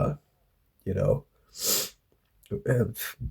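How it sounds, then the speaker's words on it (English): A person makes a short, muffled, grunt-like cough, stifled rather than hacked, between other vocal sounds and breaths close to the microphone. "if I need to cough, I'll just like try to like discreetly let it out as a grunt"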